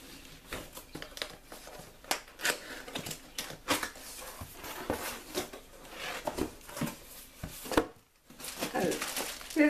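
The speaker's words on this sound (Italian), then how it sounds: "Allora, questa è la scatola. Ora apriamo." Silhouette Curio cutting machine box being opened up close: irregular cardboard scrapes, taps, crinkling packaging and short rustles, with one brief near-silent gap before the handling resumes.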